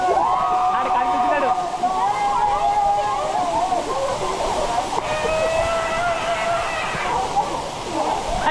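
Sarugudu waterfalls near Vizag, where a constant broadband rush of falling water runs throughout, with wavering tonal voices or whistles riding on top of the roar.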